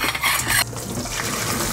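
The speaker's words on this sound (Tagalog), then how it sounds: "I-drain na natin yung tubig." Pasta cooking water pours out in a brief rushing gush, splashing into a sink before settling to a steady flow.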